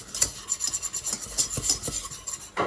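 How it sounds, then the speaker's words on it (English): A whisk scrapes and rasps rhythmically as flour is cooked in a pan for a roux for lasagna, with quick, close, steady strokes and no voices. "we're just going to whisk it. We're going to make a roux"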